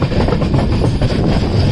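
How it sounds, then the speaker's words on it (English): A train rumbles past at Kumta station, a loud, dense roar of rolling wheels and rattling cars filling the whole short stretch without pause. "Oh, there's a train here,"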